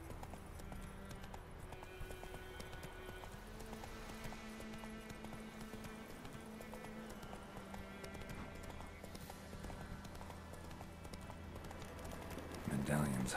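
Horse hooves clip-clop steadily in The Witcher 3, blended with game music and ambience at low volume, while a player talks over the top.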